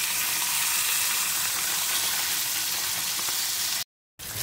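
Fish pieces frying in hot oil in a pan produce a loud, steady sizzle that fills the moment, broken by a brief silent gap near the end.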